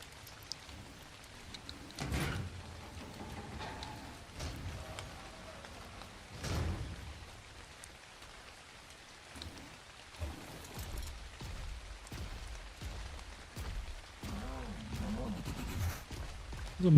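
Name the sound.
rain in video game ARK: Survival Ascended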